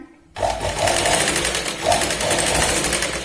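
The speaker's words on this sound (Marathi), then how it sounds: "पूर्ण ग्रीन कापडावरती इथे आपल्याला शिलाई लावायची" A sewing machine stitches along green blouse lining fabric for a katori blouse, running steadily and loudly after a brief quiet start, its motor hum and rapid needle chatter continuous with slight surges.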